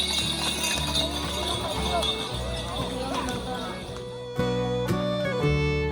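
Water buffalo pull racing carts in a makepung race run by farmers, with a steady rumble of hooves and wheels under crowd noise and voices, closing with louder clattering.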